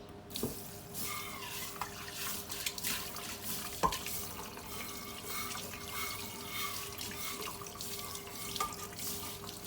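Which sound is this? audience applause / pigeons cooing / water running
water running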